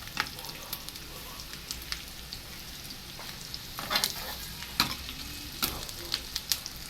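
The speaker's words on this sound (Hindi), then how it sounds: "दो मिनट प्याज को हमने सौते कर लिया।" Chopped onions sautéing in a pan for pumpkin sabzi, taking on light colour, give a steady soft sizzle with occasional scrapes and clicks of stirring throughout.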